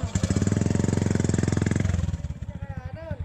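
Motorcycle engine running close by, a steady loud throbbing idle with a dense low pulse for almost two seconds, then easing into slower uneven chugging firing beats near the end.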